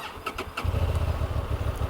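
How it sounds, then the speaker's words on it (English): A 2023 Honda Transalp XL750 motorcycle engine cranks over in neutral and catches, settling within a second into a steady, close, low idle rumble. "We just turn on the engine here."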